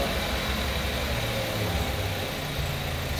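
A 2014 VW Golf Mk7 engine idling steadily, a continuous loud low rumble with an even hum and no breaks, close by.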